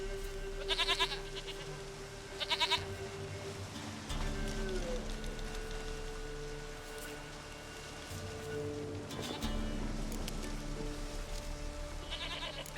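A goat bleats in The Witcher 3 on Nintendo Switch, two short wavering bleats near the start and a third later, over steady ambient game rumble and rain-like hiss.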